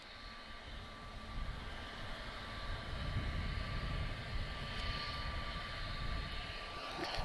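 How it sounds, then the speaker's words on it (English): At Lisbon Airport, a distant airliner engine roars steadily, with an Embraer on approach and another jet holding for takeoff. The rumble is continuous and slowly swelling, heard from afar with no speech. "it's a Neo that's waiting to take off, but it's an Embraer that's on the approach"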